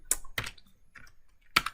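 Keys clatter on a computer keyboard as code is typed, three or four sharp, close keystrokes with short gaps between them.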